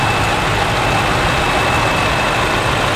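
A John Deere 6400 tractor engine runs steadily at a steam rally in Kelsall, a loud, close, unbroken diesel rumble with a hissy wash and no change in pace.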